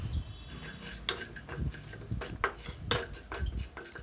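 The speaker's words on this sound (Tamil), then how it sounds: "சின்னதாக பட்டை, 3 கிராம்பு, 1 நட்சத்திரப்பூ, இது எல்லாத்தையும் போட்டு எண்ணெயில்" Cinnamon, cloves, star anise and fennel seeds frying in oil for a parotta salna, with a spoon clinking and scraping against the pan in an uneven rhythm of stirring clatter, close by and without talk.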